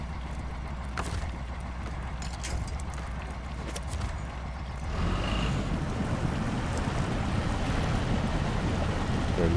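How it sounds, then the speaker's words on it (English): A repaired truck engine in SnowRunner, a Yar fitted with a high intake, rumbles low and steady while crawling through Wisconsin terrain, swelling louder and fuller about halfway through as it pulls forward. "And now that truck is running."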